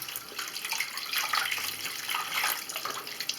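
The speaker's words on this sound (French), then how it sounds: "on la nettoie comme ça avec de l'eau tiède" Foam ink absorber pad from a Canon MG2550S printer rinsed under lukewarm running water: a steady, close splashing tap flow with small fluctuations, and no voices.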